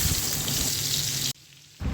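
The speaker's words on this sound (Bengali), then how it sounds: "আলুগুলো তেলের মধ্যে দিয়ে দিচ্ছি" Cut potatoes fry in hot oil with a dense, crackling sizzle that drops out briefly, then returns just as strong.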